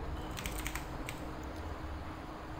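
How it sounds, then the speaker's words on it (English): A few light keystrokes on a computer keyboard, quick faint clicks grouped in the first moments and then a single tap, over a constant noisy hum. "here just type the app name like photos."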